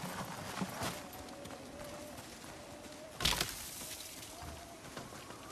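Soft hoofbeats of horses in Ghost of Tsushima clip-clop at a steady walk over a constant ambient wash, with a brief louder swoosh partway through.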